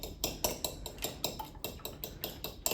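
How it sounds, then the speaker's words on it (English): Seasonings whisked in a bowl for Polish chicken, a quick steady run of metallic clinks and scrapes, about four strokes per second, close and moderately loud with no talking. "Now we're going to whisk it."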